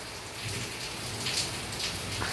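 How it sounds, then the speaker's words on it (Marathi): Heavy first monsoon rain pours down in a steady, dense hiss that stays close and constant throughout, with no voices. "पावसाच्या धारांच्या धारा कोसळत असतात"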